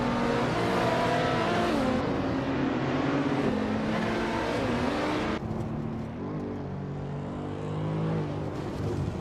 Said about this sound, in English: Kickass Lady X3 is driving a 2003 Audi S4, which is known for its balanced performance and all-wheel drive